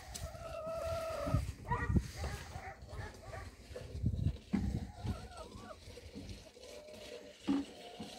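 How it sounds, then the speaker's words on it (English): Chickens in a large chicken coop give soft, scattered clucks among rustling and footstep movement, fairly faint, with someone talking at times. "Right here is the largest chicken coop."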